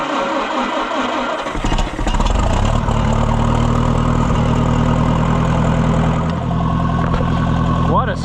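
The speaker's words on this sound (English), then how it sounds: "the jump box is still sitting here, so we will crank her up, see what happens" An Oliver 550 tractor engine cranks with a jump box, catches and settles into a loud, steady idle with a low rumbling throb that continues to the end.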